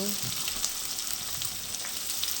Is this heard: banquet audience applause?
no